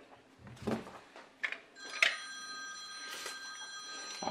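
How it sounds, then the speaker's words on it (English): A home telephone rings in a kitchen where limes are being juiced, a steady electronic bell tone with bright sustained harmonics that starts about two seconds in and keeps ringing, preceded by a few short clattering kitchen noises. "And my phone is ringing at the most inopportune time."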